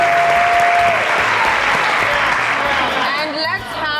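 Sustained audience applause and cheering for a live band, loud and dense throughout with a brief whistle early on and some raised voices near the end.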